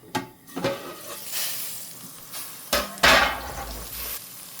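Narsinga masala fries and crackles in a pan while a spoon scrapes and stirs it, with a few sharp clanks against the metal.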